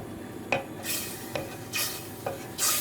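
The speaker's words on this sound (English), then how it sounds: "Stir that till it's melted." Cheese sauce for macaroni cheese being stirred in a pan, with a few separate spoon scrapes and clinks against the pan and a soft simmer underneath.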